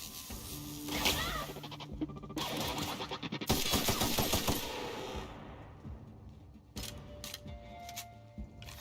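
The player fires a gun in The Outer Worlds: bursts of rapid close shots in quick strings, broken by short pauses, with clicks and mechanical clatter between the volleys.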